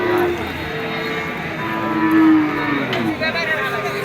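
A Sahiwal cow at a cattle market lets out a long, low moo over a steady background murmur, close by and fairly loud.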